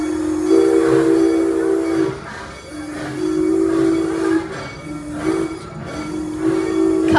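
An amusement park train rumbles steadily as it departs a station, with a sustained whistle-like tone that pauses and returns several times, loud and close.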